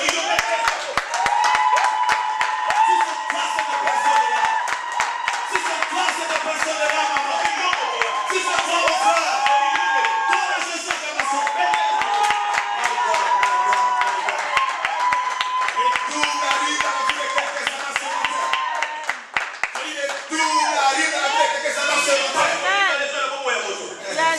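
Church congregation clapping in steady rhythmic bursts with cheering and praise through most of the stretch, loud and close, with a preacher's voice and singing carrying over the clapping.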